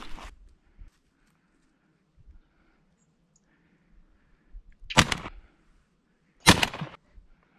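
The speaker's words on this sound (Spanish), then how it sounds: "Uf, el primer disparo quizás excesivamente cerca." Two sharp shotgun blasts during a thrush hunt, about a second and a half apart, loud and near against quiet outdoor ambience, with faint rustling before them.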